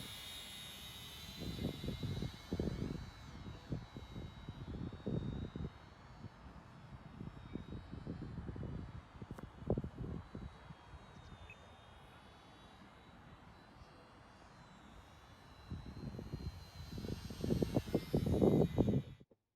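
A Microaces Percee twin-engine micro model aircraft in flight gives a continuous high electric motor whine that drifts in pitch, rising and fading as it passes, over bursts of wind or handling noise.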